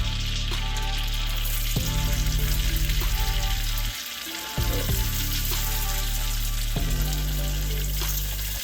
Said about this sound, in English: As soon as I drop that cabbage in there, I want it to start sizzling.